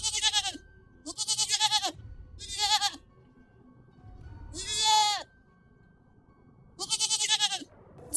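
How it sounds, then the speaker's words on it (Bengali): A cartoon goat bleats five times in loud, wavering cries separated by short pauses, with faint background noise between calls. "ছাগলটি ডাকতে লাগলো"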